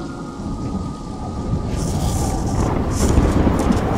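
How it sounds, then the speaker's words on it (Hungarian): Heavy rain pours steadily with thunder rumbling loud and close, the downpour swelling stronger in the second half. "Ez az átkozott eső."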